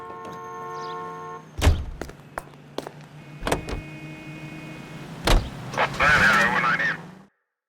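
A car in the video game L.A. Noire: a steady engine hum with door thunks and clunks, then a rising whirring burst before it cuts to silence.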